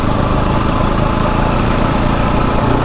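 A Fantic 250 enduro motorbike engine runs loudly and steadily up close, a rough, throbbing mechanical drone on an off-road green-laning ride, with no speech.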